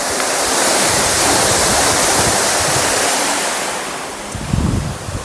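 Irrigation water rushes loudly and steadily into a farm channel at a village orchard in Gujarat, a dense, close gushing with some wind noise on the microphone and a few faint knocks near the end.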